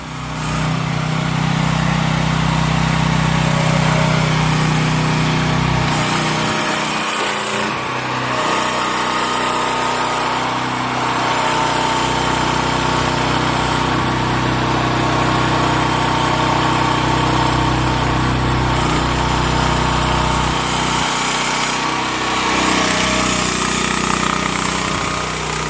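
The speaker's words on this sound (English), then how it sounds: "right here we have a AGT Industrial H13R Mini Excavator. Has a cab on it." An AGT Industrial H13R mini excavator with a cab runs its engine close by: a loud, steady mechanical drone with a rattling buzz that shifts in pitch partway through, with no talking.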